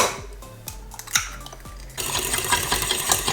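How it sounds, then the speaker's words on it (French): An egg being stirred into mashed ingredients in a bowl, with a spoon scraping and clinking against the sides in a few sharp strokes, followed by a denser, continuous wet mixing noise up close. "Ensuite on met l'œuf et on va mélanger."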